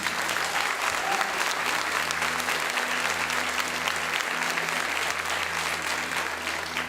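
A church congregation gives the Lord a round of applause, sustained dense clapping that holds steady and loud throughout a large hall.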